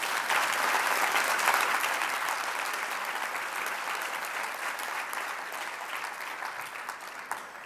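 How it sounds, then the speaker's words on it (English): A large audience applauds at the opening session of the AJLI annual conference, a dense, steady wash of clapping that holds for several seconds and eases slightly toward the end. "So give yourself a round of applause."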